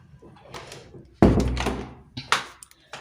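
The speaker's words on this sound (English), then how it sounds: "And then let's close the door." An Airbnb door in Nakuru shuts with a solid thunk, followed by a couple of lighter knocks and rattles up close, with some faint rustling before it.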